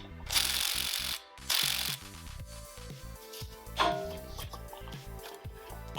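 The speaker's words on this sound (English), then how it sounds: "hand tighten the nut, and then drive it home" Close, loud ratchet clicking as a nut is driven home on a Honda Hobbit moped's rear pulley, a steady run of rhythmic pawl ticks with a couple of louder rasping strokes.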